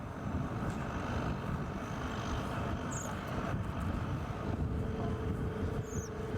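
A KC-46 aircraft passes overhead as a steady, broad low rumble that holds level and continuous throughout, with no talking.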